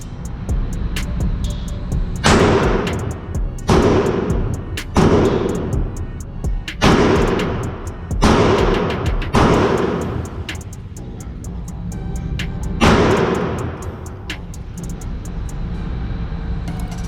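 Glock 43X pistol shots fired at a target, eight or so loud, sharp reports spaced a second or two apart, each with a booming tail over steady outdoor rumble.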